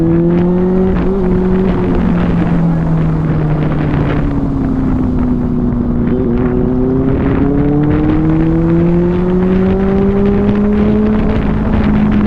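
Triumph Street Triple motorcycle on a night ride, engine note rising and falling steadily as it accelerates at speed, with constant rushing wind noise over the microphone throughout.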